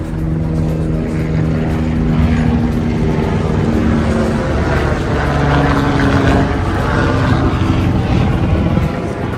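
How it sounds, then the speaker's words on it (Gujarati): A helicopter passes overhead on the Kedarnath Yatra pilgrimage route in snowy mountain terrain, its steady rotor and engine drone loud and continuous throughout, with no talk over it. "હેલિકોપ્ટર જઈ રહ્યું ઉપર."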